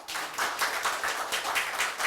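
Seminar audience applause for four presenters at a bio-defense strategy event, a dense, even clatter of many hands clapping that pulses slightly as it continues, with no voices over it.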